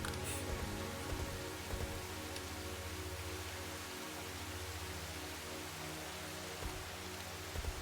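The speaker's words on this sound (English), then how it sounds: "in the alpha, you use the glyph, and that creates rain of debris" A glyph unleashes a rain of debris in the Bionicle video game The Legend of Mata Nui, heard as a faint, continuous patter and hiss with a low steady hum beneath it and a few small clicks.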